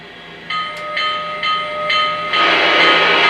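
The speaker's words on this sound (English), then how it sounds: "Here's the bell." A locomotive bell in a train simulator video game rings in evenly spaced, ringing strikes roughly every half second. Louder engine noise then swells underneath.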